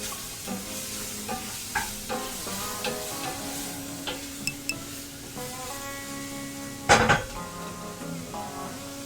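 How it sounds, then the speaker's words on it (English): Onions sizzle softly in a frying pan while a utensil stirs and scrapes at intervals, with one louder clatter of cookware partway through. "Go back to those sizzling onions."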